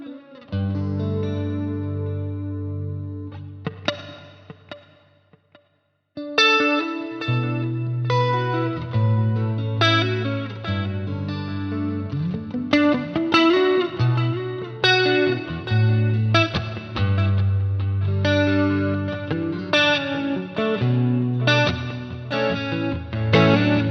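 Electric guitar played through a Neural DSP Quad Cortex with a quarter-note delay, sustained notes and chords trailing into repeating echoes, loud and continuous after a brief pause early on.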